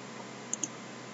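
Two quick, faint computer mouse clicks land about a tenth of a second apart over a quiet background.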